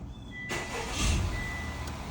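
A Honda Accord 2.0T engine cranks and fires after a short quiet pause, catching with a rising burst and then settling into a steady idle, close by and alone.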